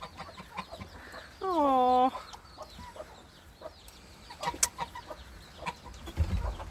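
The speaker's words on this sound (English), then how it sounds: "Oh, rocky, bedraggled looking roosters." Wet, bedraggled roosters in a bird enclosure after rain, with one clear clucking call with rising tones and scattered softer clucks nearby, a brief exclamation from a person among them.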